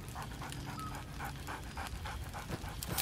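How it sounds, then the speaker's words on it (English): Dog from the Baldur's Gate 3 video game, panting rapidly in a quick, even rhythm with soft huffs, close and fairly quiet, with no clear bark standing out. "Scratch barks merrily in something like agreement."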